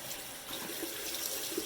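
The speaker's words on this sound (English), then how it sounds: "So I'm now rinsing my cloth again." A face cloth is rinsed under a running tap of moderately hot water in a sink, giving a steady, soft splashing rush with small irregular surges as the cloth moves through the stream, close by and quiet.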